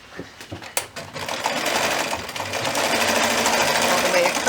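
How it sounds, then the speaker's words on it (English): A sewing machine stitches steadily around the edge of a handmade vinyl luggage tag, starting with a few clicks and then running continuously and close while a person talks. "I'm just gonna stitch all the way around, right on the edge"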